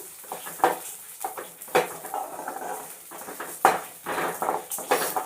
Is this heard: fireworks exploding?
no